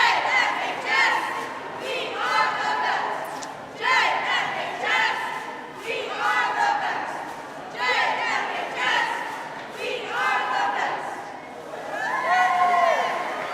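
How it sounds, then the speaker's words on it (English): A high school cheerleading squad chants in loud unison at a girls basketball game, rhythmic shouted calls repeating every couple of seconds, echoing through a gym with crowd noise underneath. "Cheerleaders just trying to keep the crowd entertained, pumped up, and make sure they're always in it"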